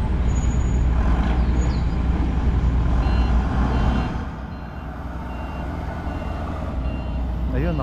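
A large Montenegro Shipping Lines vehicle reverses at a port, its backup alarm beeping repeatedly over a low diesel rumble, with engine noise dipping partway through and distant machinery behind.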